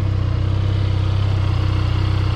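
A Harley-Davidson X 350 motorcycle engine runs at a steady, even idle, a close, loud, continuous low throb with no revving and no voices.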